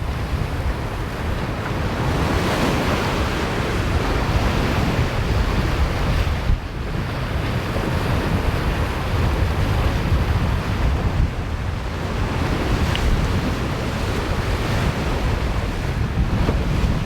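Wind and ocean waves while a boat sails fast at sea, a loud steady roar of wind on the microphone with rushing water and surf, continuous and close, with no voices.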